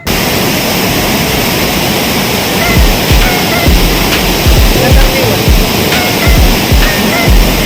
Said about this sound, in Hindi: यहाँ पर बड़े बड़े पत्थरों के बीच से जो पानी बहता हुआ जा रहा है